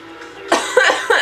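A person who has been sick coughs three times in quick succession, loud and close to the microphone, each cough a sharp harsh burst after a quiet start.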